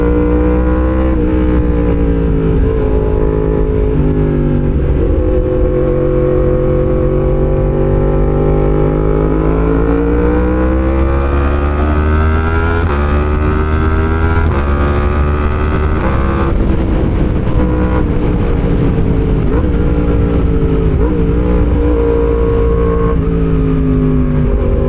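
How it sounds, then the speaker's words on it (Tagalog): A Yamaha MT-10 1000cc motorcycle rides continuously and loud, its engine drone holding steady in low gear with slow rises and dips in pitch over about twenty-five seconds, wind rushing over the microphone throughout. "Itong motor na ito, MT-10 or any 1000cc, madalas babad tayo sa low gear."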